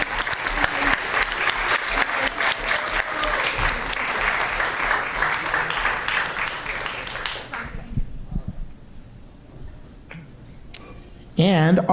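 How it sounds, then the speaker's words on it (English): A crowd at a school district governing board meeting applauds with dense, steady clapping for about seven seconds, then it fades to a quiet room before a voice starts speaking. "Let's give her a round of applause."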